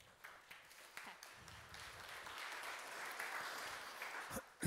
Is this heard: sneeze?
no